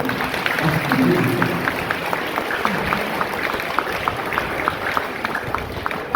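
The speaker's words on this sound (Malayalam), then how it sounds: "ഈ ജോയലിന് ഒരു കയ്യടിയിൽ കൊടുക്കട്ടെ" Audience clapping at a children's fellowship inauguration event, a steady patter of many hands filling the room alongside some murmuring voices.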